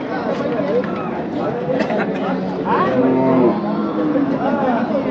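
Bulls low and moo at the Saturday bull market in Chakan, heard among a steady crowd of voices and chatter that stays loud throughout.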